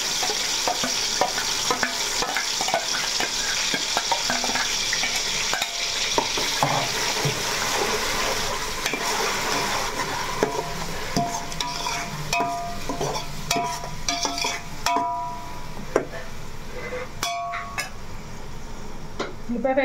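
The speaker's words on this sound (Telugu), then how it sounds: "ఉల్లిపాయ పేస్ట్ అయితే వేసేసుకుందాం." Onion paste frying in a pan and being stirred, with a continuous close sizzle, frequent metallic scrapes and utensil clinks that grow sparser toward the end.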